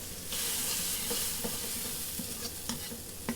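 French beans are stir-fried for vegan fried rice in a London restaurant kitchen, with a loud, steady hiss of frying and intermittent clacks of a utensil against the pan.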